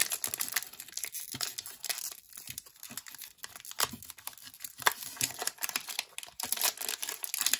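Pokemon Fusion Strike booster pack being torn open and handled, with continuous close crinkling and crackling of foil wrapper and no talking.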